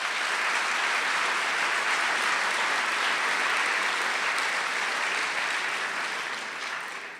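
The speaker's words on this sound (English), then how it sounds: "Thank you so much for clapping." An audience at a city address gives sustained, dense applause that stays loud and even throughout, tapering off slightly toward the end.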